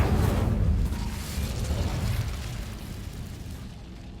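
Incendio fire spell cast in Hogwarts Legacy, a deep booming burst that hits hard at the start and then settles into a rumbling, roaring whoosh that slowly fades.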